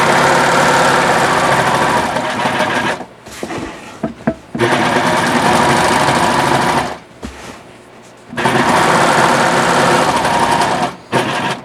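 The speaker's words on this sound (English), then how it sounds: "you can stay stitch it by serging it, which I'm going to do now" A serger stay-stitches the fraying edge of rug fabric for a beach tote bag in three loud, fast-whirring runs, with short mechanical clicks and pauses between them.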